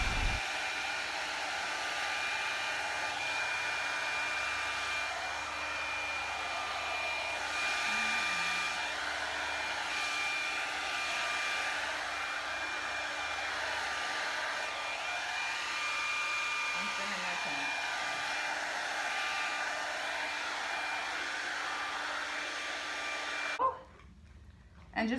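A blow dryer runs in a steady loud whoosh close by while blowing colored resin around to mix it, continuing nearly unbroken before cutting off abruptly near the end.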